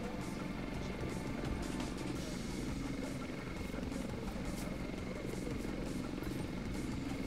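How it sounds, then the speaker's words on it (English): Helicopter in the video game Ghost Recon Future Soldier, a low, continuous rhythmic rotor thrum holding steady and fairly faint in the background while someone talks over it. "It sounds like a helicopter, don't it?"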